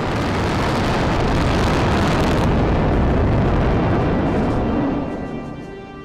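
A SpaceX static fire ignites 31 rocket engines at once with a water and nitrogen deluge spraying beneath them, producing a massive, sustained roar that rumbles loudly for several seconds before starting to fade.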